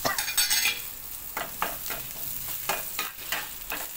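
Green chillies sauté in a pan under a steady sizzle, with repeated scraping strokes of a spoon stirring them close by, louder at the start.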